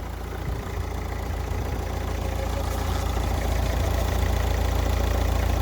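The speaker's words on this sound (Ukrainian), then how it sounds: "Двигун гарно працює." Car engine idling steadily and smoothly during a vehicle inspection, a constant close rumble with an even, unbroken drone throughout and no speech.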